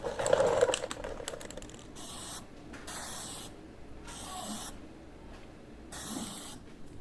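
A cheap generic can of black spray paint sprays onto a custom gas tank in four separate hissing bursts, each about half a second to a second long, heard close with no speech.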